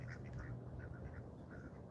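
Ducks quack at a park pond on a cold day, a few scattered, fairly faint calls over steady outdoor background noise.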